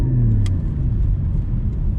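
A Porsche GT4 rolls along a snowy road, its engine a steady low rumble with road noise close and continuous, plus one brief tick near the start.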